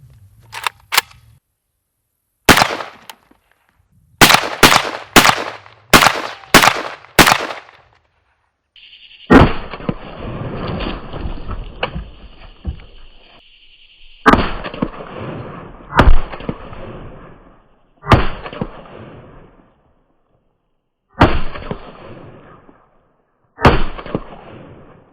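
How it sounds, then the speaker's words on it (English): Single shots from a Palmetto State AK-47 rifle chambered in 7.62x39, fired outdoors at a stack of football cards: sharp, loud reports, some in quick succession and others spaced seconds apart, each followed by a short echo. "Let's see if some football cards can stop an AK-47."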